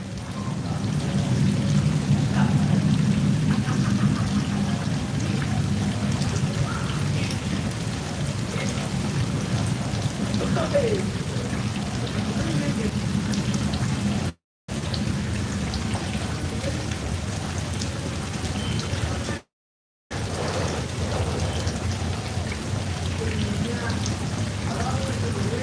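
Steady rain patters and spatters continuously on surfaces nearby, a dense hiss with low rumbling, broken by two brief silent gaps.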